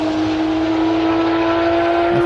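GT Cup race cars at Brands Hatch GP circuit roaring past in a steady, loud engine whine with a sustained high tone, close and continuous without voices.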